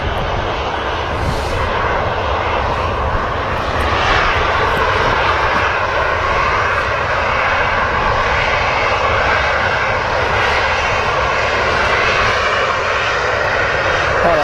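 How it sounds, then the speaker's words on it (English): A Ryanair jet taxis out at Manchester Airport, its engines producing a loud, continuous whine and roar that holds steady throughout with no talk. "Another Ryanair as well on the taxi out."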